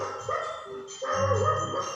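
A dog barks and yips aggressively in a short burst of repeated, close, fairly loud calls with whimpering tones, heard alone without speech.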